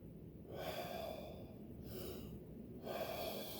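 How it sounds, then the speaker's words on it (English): Slow, deep belly breaths drawn through the diaphragm during a floor mobility and martial arts workout, a few long airy inhales and exhales close to the mic, quiet and rhythmic with no talking. "Deep belly breathing."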